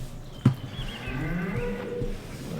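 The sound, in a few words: cows mooing in video game Farming Simulator 19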